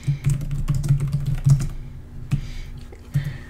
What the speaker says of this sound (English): You just double click on it and you can start typing.